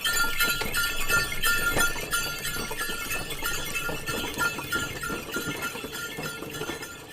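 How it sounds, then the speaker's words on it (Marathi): A bullock cart rolls along with steady clattering and clinking from the wheels and fittings, a busy continuous rattle heard up close with no talking. "Bullock cart."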